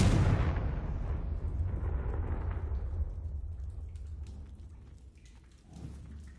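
A Confringo blasting curse in Hogwarts Legacy sets off a booming explosive burst that rumbles and crackles as it slowly fades, with a smaller thump near the end.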